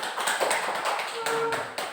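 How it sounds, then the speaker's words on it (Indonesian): Classroom applause for a group of students: a short burst of scattered clapping from a class, dense and fairly close, fading slightly over two seconds with no voices over it. "beri tepuk tangan untuk kelompok 1"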